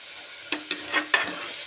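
A ground masala of garlic, ginger, chili and fennel sizzles in a pan while a spoon stirs it. Several sharp scraping clinks come over a soft, steady frying hiss.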